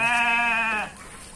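A breeding ram on a goat and sheep farm gives a single loud, close bleat that lasts almost a second, with a wavering pitch, and then falls to quiet farm background.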